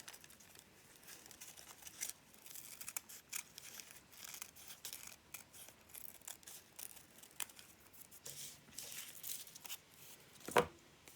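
Scissors snip steadily through fabric while collage pieces are cut out, a close series of soft crisp cuts with light rustling of the material and one sharper clack near the end.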